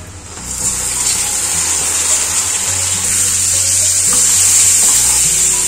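Tomatoes go into hot oil with masalas for a tomato curd gravy and send up a loud, steady sizzle that builds a little as it goes on, with a low hum beneath it.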